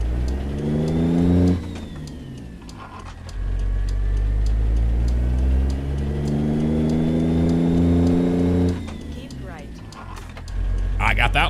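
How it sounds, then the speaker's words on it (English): Truck engine in American Truck Simulator revving steadily and loudly, rising and falling through gear changes with brief dips between shifts, with someone talking over it throughout. "Roll our windows up here so you can listen to the engine sound without it being too loud here."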